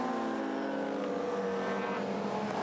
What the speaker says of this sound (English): And the bellowing 8-cylinder M3 GTR replica.